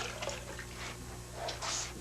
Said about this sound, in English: I wipe once with each side of the sponge, then I rinse it off and keep going.